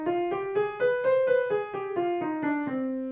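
A harmonic minor scale played on piano rises and descends note by note at a steady moderate pace, each tone ringing cleanly with nothing else heard.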